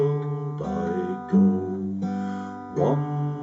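Finger-picked acoustic guitar playing One More Step Along The World: a slow run of sustained, ringing plucked notes, each new note entering roughly every two-thirds of a second, heard alone and fairly close.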